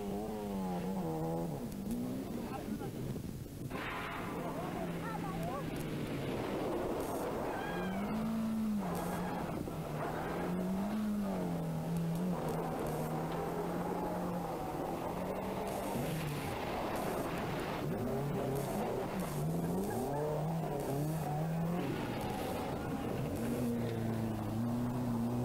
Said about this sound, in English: team now of David and Catherine Hyde, going well with their little Opel.